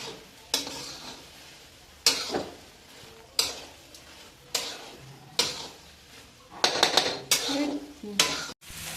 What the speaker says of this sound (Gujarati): ચોખાને હવે આપણે મિક્સ કરતું જવાનું છે અને સરસ રીતે હલાવતું રહેવાનું છે થોડી વાર આપણે ખાંડ ઓગળી જાય ત્યાં સુધી